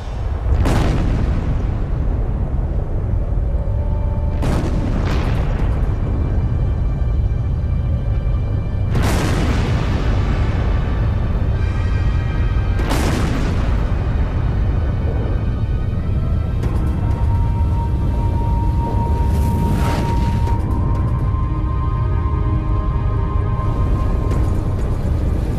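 Repeated deep booms and blasts from the Castle Bravo hydrogen bomb test, several sharp detonations spaced a few seconds apart over a constant heavy low roar, with no voices.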